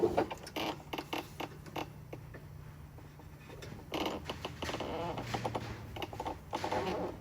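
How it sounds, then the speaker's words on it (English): Hex bolts on the rear prop shaft of a 2024–2026 Polaris RZR XP1000 being loosened with a 6 mm Allen key, giving close, irregular metallic creaks and clicks in short bursts, with no talk. "we're going to go ahead and unbolt our rear and then tackle this carrier bearing"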